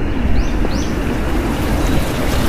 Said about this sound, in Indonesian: mendengarkan suara ombak laut ya